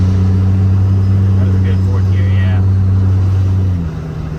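A car engine idles steadily after its first startup following a major engine failure, a loud constant low hum that drops slightly in pitch near the end.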